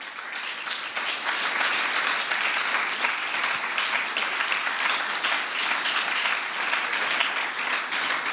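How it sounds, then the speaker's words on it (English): An evening lecture audience gives a sustained round of applause, dense, steady clapping from many hands filling the hall at an even, loud level throughout. "Please, let's give them a round of applause."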